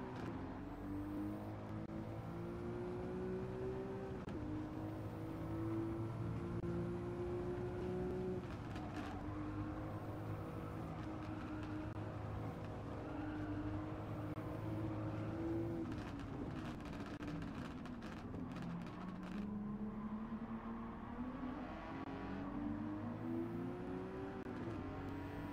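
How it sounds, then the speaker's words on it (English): An Aston Martin race car in Gran Turismo 7 roars through repeated gear changes, its engine pitch climbing and dropping in waves with tire and wind noise, fairly quiet overall and without speech. "Oh, I love the sound of this car."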